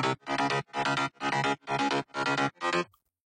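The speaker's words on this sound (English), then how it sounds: "More of a chopping bass, rolling bass as it's called" Rolling, chopping synth bass preset from Sylenth1, seven evenly spaced loud stabs in a steady rhythm, each cut off sharply, with silence after the last.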